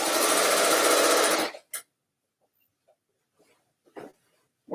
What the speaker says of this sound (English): Stitch it all in place.